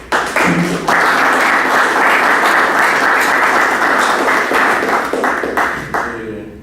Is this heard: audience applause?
yes